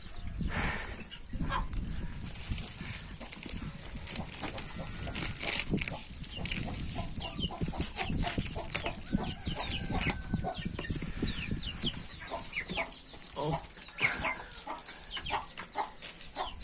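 Young Indian and Splash Wyandotte chickens and roosters clucking and calling steadily at close range in a farm pen, with occasional wing flaps and busy overlapping bird sounds throughout.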